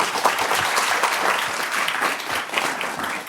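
Audience at a small-business community forum in Atlanta claps to welcome speaker Cynthia Freeman, a steady, moderately loud round of many hands that tapers slightly at the end.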